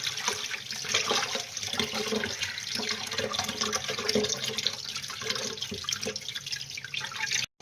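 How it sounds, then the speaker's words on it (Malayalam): Chicken pieces are rinsed under running water in a sink, a close, steady splashing gush with sloshing and dripping that continues throughout and cuts off abruptly at the end; no one speaks. "നമുക്കിത് ഒരു വട്ടം കൂടെ കഴുകി എടുക്കാം."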